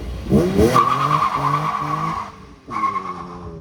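A Nissan 350Z engine runs steadily with a sustained tonal hum, briefly dipping before picking back up; close and fairly loud, no talking.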